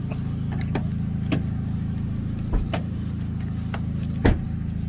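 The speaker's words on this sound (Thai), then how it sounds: "ฟังเสียงเครื่องนะครับ นิ่มมากเลยนะครับ" A Honda City Type Z automatic idles smoothly up close, a steady low engine hum with faint clicks and light mechanical taps over it, no voices.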